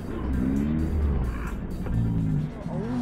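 A car in the Need for Speed Rivals racing game, with a loud roaring engine, tire squeal and skidding as another car is T-boned; a rough collision burst comes midway.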